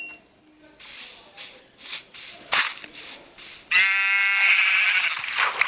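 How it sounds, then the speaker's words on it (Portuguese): A video game sheep bleats in a burst of nasal cries near the end, following a run of evenly spaced soft swishing or stepping sounds, with a voice talking quietly in between. "Tem 2 ovelhas."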